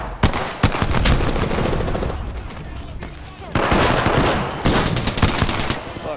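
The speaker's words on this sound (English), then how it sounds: "We're getting sniped at from up top," In a team shooter video game, sniper fire comes from above. Dense, loud volleys of gunshots and rapid automatic fire repeat in several bursts close together.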